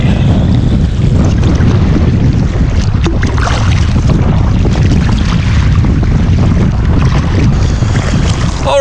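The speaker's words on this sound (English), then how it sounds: "Just gonna continue battling the wind, and we'll be back at the ferry where we need to wait." Strong wind roars across the microphone during a paddling trip on Lake Superior near Isle Royale, a loud, constant buffeting rumble with faint water sloshing beneath it and no let-up throughout.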